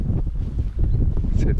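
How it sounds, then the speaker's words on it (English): Gusty wind buffets a nearby microphone, producing low rumbling bursts and rustling throughout. "It's a little bit windy."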